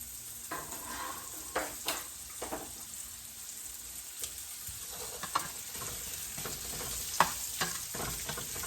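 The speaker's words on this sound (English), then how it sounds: "Okay, this is already hot. I'm going to get my onions and throw them in there." Onions sizzle in a hot pan with a steady, soft frying hiss, broken by occasional scraping stirs, close but fairly quiet.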